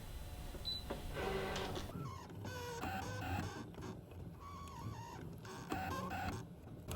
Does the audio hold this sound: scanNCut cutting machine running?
yes